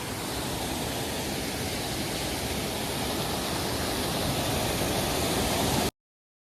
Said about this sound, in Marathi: पाण्याला फोर्स बघ किती आहे